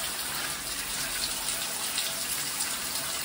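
Running water pours steadily from a shower onto a pet, a dense, constant hiss of spray close by with no other sounds.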